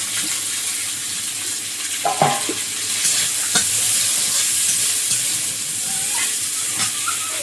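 Chopped onion and garlic fry in chilli oil with a steady, close sizzle, while a spoon scrapes and stirs through the pan in a few sharp clinks and knocks.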